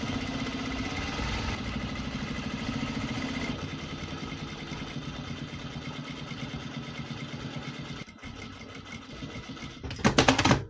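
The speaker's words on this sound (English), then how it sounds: "So I will double up the seam with the lock stitch machine" Lock stitch sewing machine doubling a seam on a softshell jacket, with a steady close mechanical whir that changes pace partway through and ends with a brief louder clatter.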